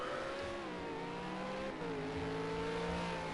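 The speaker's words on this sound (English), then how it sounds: "you can just hear the throttle module" A race car engine in a Supercars sim race at Dubai Autodrome revs steadily with wavering throttle, its tone rising and dipping as it holds a high, continuous drone with no talk.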